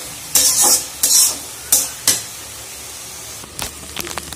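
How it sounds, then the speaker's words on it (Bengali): Vegetables and tomato bhuna cook on two stoves, with four loud bursts of sizzling as the pans are stirred, followed by quieter scraping and clinks. "এক চুলায় সবজি আর এক চুলায় তো টমেটো ভুনা"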